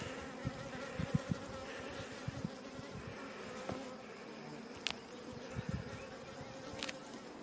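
Honey bees hum and buzz around an open hive during an inspection after smoking, a faint steady drone with scattered closer passes and soft knocks.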